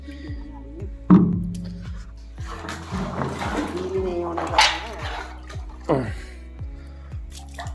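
Water is drawn by hand into buckets at home while the electric pump motor sits idle during a power outage. Sloshing, pouring and dripping splashes come in irregular bursts, close by, with some vocal sounds in the background.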